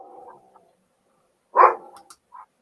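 Dog barking once, a single loud close bark after a stretch of quiet, with a short softer sound following it; a voice murmurs briefly at the start.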